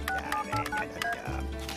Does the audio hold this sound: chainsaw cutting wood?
no